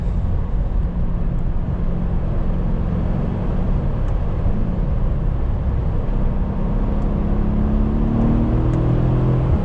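A 2016 Mercedes-Benz E63 S AMG cruising down a road, its engine a steady low droning hum with rising tone under the road and wind rumble, heard from inside the car.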